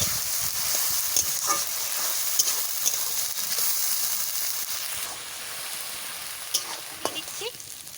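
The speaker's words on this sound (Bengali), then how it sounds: "পেঁয়াজ কীরকম করে ভাজা করে নিচ্ছি" Onions sizzle in a pan with a constant frying hiss, occasional stirring scrapes and small pops, close and moderately loud, with no talk.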